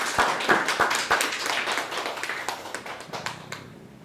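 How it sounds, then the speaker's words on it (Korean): A Korean church congregation claps in welcome for visiting family, with distinct sharp claps close by over a broader spread of hands, gradually thinning out and stopping near the end. "박수로 한번 환영만 좀 한번 해주세요."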